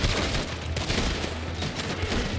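Dense, continuous gunfire from the Red Dead Redemption video game, with rapid overlapping shots forming a loud, sustained fusillade throughout and no pause between bursts.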